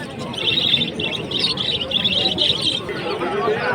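Pigeons at a busy pigeon market in Fatullah, Bangladesh, give repeated bright chirps and calls close by, with people talking in the background.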